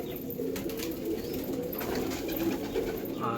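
Chotial Pulsar pigeon cooing nearby, a soft, low, repeated throaty coo running steadily over a quiet background hum with a few faint chirps.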